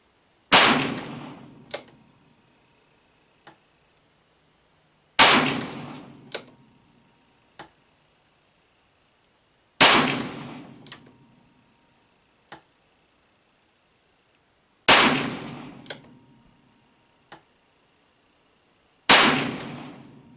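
Five .38 Special wadcutter shots from a Smith & Wesson K-frame revolver clamped in a Ransom Rest, each a sharp loud crack with a short ringing decay, spaced about five seconds apart, each followed by a softer metallic click.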